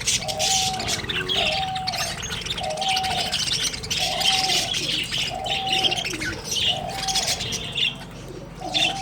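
Pet parrots, a mother with her chicks, chirp, squawk and coo while eating a homemade seed mix of maize, oats and millet, with a repeating call pattern rising over steady twittering.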